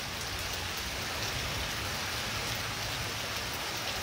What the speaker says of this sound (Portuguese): Aqui em casa, tomando um cafezinho, vendo a chuva.